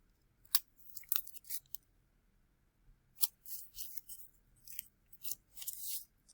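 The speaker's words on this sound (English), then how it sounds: "I'm going to go ahead and tape this together." Tape is pulled and torn in short, crisp, crackling bursts while paper mache candy pieces are taped together, close and fairly quiet, with brief pauses between strips.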